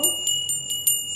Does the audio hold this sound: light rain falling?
no